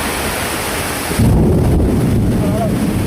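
Background hiss, then a deep, loud rumble of thunder rolls in abruptly and continues to the end.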